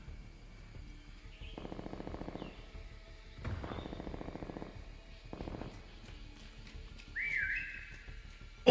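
In a Call of Duty Prop Hunt match, short high whistle tones sound faintly among quiet pulsing game noises, with a brighter whistle near the end.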